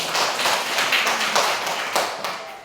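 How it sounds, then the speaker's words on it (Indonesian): A classroom of children claps together in a dense, rhythmic burst of hand claps that carries on steadily at a moderate level for a few seconds. "Oke, tepuk tangan dulu."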